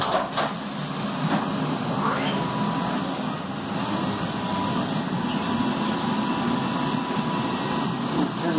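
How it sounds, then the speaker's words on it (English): A CNC machine bores holes in a timing cover, spindle running up to 10,000 RPM with coolant on, giving a steady, loud broadband machining whir and hiss that holds unbroken for the whole stretch. "it's going to change tools and it's going to come back and bore these holes"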